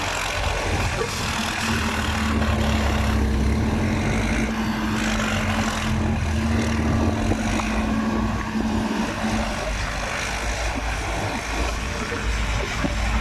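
A heavy Hitachi ZX200 diesel excavator engine idles steadily and smoothly, a low continuous rumble with a faint hum, no voices.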